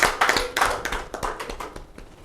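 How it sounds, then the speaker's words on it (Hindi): Audience clapping at an Indian community event, a burst of close, uneven hand claps from a small crowd that starts strong and thins out over a couple of seconds. "क्या जोरदार से तालियां हो जाए"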